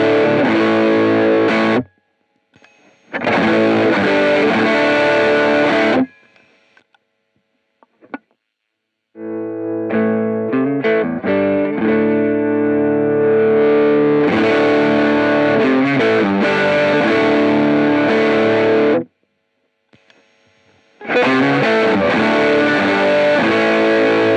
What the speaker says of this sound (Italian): Inserendo un overdrive invece in catena, il pedale volume fungerà da controllo di gain per questo.